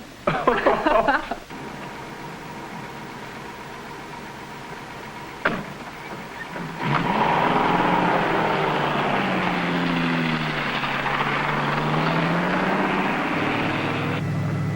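A propeller airplane engine in a 1946 adventure film serial starts up after a sharp knock and short exchange of voices, then runs in a steady, loud roar with a wavering, shifting pitch until the end.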